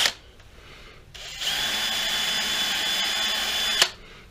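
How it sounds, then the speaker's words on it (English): A power drill spins a round piece fitted with sandpaper to polish a slot, a steady whirring whine running a few seconds before cutting off, close and clear. "stuck some sandpaper in it and spun it on my drill"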